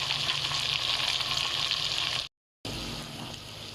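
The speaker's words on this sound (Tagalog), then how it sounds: "So, ayan, pwede na natin ilagay yung kanyang linus. Kanyang laman. Yung liver, yun ang huli natin igigisa." Pork pieces sauté for Ilocano-style lomo lomo, a steady loud sizzle and hiss of frying in a pan that cuts out briefly, then resumes slightly quieter.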